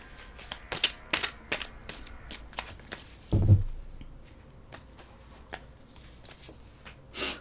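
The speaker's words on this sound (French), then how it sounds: "on va prendre une petite carte du tarot" Tarot cards riffled and shuffled by hand in a short burst of quick crisp flutters and taps, followed by one heavier soft thump as the deck is set down, close and fairly quiet with no talking.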